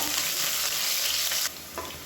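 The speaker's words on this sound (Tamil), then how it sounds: "இப்போ வெங்காயம் ஓரளவுக்கு வதங்கிடுச்சு." Onions sizzle and fry in a pan while being stirred for a kurma, a close, steady crackling hiss with brief scraping strokes, with no voices.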